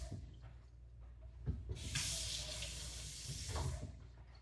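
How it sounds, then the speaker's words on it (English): Water droplets thrown into a hot cooking pan sizzle and hiss in bursts, a broad spitting crackle swelling midway and again near the end. "you throw a little bit of water in there, and if the water dances around, then it's good to go"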